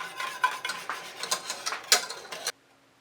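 A spoon scrapes and stirs thickening chai pie filling across the bottom of a pot on the stove, in repeated close scraping strokes that stop abruptly near the end.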